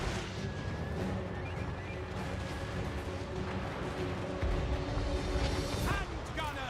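Artillery war machines fire in Total War Warhammer 3 amid a dense battle din of rumbling blasts and gunfire, with shouted commands over the top.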